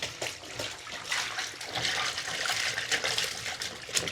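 Soapy water sloshing and splashing in a bathtub as motorcycle gear is scrubbed by hand, a steady wet swishing with small splashes throughout.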